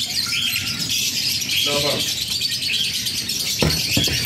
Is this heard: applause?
no